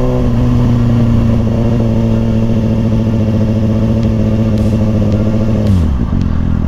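A loud Mustang fitted with a Bassani exhaust holds a steady, heavy rumbling rev close by for several seconds, then drops off sharply near the end.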